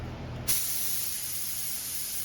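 A spray gun at about 25 psi air pressure starts with a sudden hiss and sprays paint in a steady, continuous blast close by.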